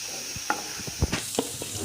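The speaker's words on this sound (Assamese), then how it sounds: "এতিয়া বিলাহীখিনি এড কৰি দিছোঁ।" Tomatoes hit a hot pan for a masala brinjal and paneer curry and sizzle steadily. Scattered stirring clinks and scrapes sound close by.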